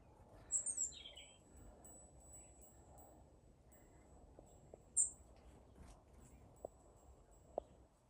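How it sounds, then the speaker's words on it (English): Faint, high chirps from small robins, a few brief calls spaced apart against a quiet outdoor background with occasional soft clicks. "Little robins come to join me."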